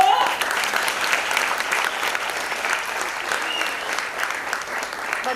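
Applause from an audience at a school award ceremony honoring top students, steady dense clapping throughout, fairly loud and close with no break.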